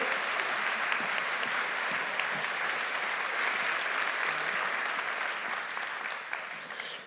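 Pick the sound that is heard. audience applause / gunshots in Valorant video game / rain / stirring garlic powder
audience applause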